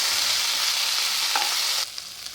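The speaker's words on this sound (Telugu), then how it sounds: "చింత చిగురును ఒక 2 నిమిషాలు వేయించుకోవాలి." Tender tamarind leaves fry in a pan with turmeric, giving a bright steady sizzle with a stirring scrape, then the hiss drops sharply near the end.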